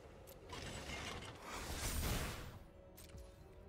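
Mechanical whirring, creaking and ratcheting of chariots being crewed in the digital card game MTG Arena, a swelling gear-like effect that peaks midway then fades, with no talk over it.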